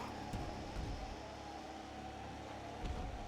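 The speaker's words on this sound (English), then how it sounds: "New F1 cars sound good. Not. Hey, it's a 2018 Williams." A 2018 Williams F1 car engine drones steadily and faintly in an F1 video game, a thin, even whine without much change in pitch.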